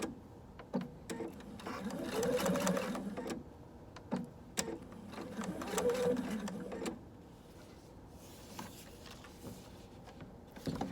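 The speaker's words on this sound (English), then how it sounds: "I'm gonna sew down the edge of it, the whole length down, just to seal it shut" A sewing machine runs in two long bursts, stitching a zigzag across elastic and bias tape for a drawstring, with short pauses and a few sharp clicks between runs.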